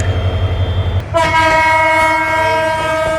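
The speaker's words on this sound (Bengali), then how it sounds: "টাঙ্গাইল প্ল্যাটফর্মে আমাদের ট্রেনটা দাঁড়িয়েছে।" The horn of the Burimari Express sounds loud and sustained while the train stands at Tangail station platform. It starts after a second of low engine rumble and holds steady to the end.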